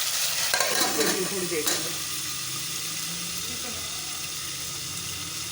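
Tomatoes frying with spice masala for urad dal make a steady sizzle with scraping stirs early on, while a voice speaks briefly over the cooking.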